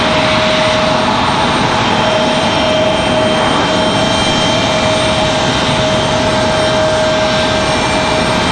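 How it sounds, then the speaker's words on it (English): Southwest Airlines jet airliner arriving at Raleigh-Durham airport, a loud steady roar of jet engines with a whining tone, close by and alone with no talking throughout. "Got another Southwest arrival."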